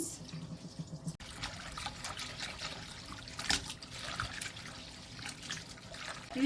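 A second rinse of boiled japchae noodles under cold running tap water gives a soft, steady trickle and splash with one short pause early on.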